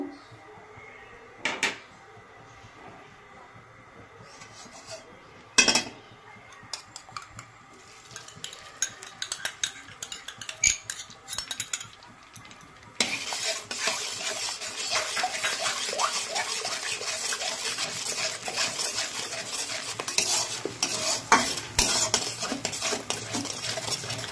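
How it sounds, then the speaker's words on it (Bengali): Egg being stir-fried in a little oil in a pre-heated wok for leftover-rice fried rice: scattered utensil clinks and scrapes at first, then a steady, louder sizzling hiss with continual stirring clatter. "অল্প তেল দিয়ে আমি ডিমটাকে একটু ভুজিয়া করে নেব"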